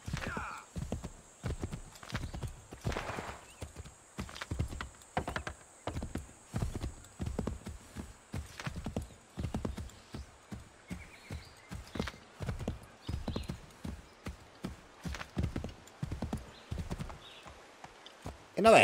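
Horse hooves clopping in a steady, quick rhythm as a horse is ridden in the 2012 video game Assassin's Creed III, close and continuous throughout, with occasional whinnies and faint game ambience.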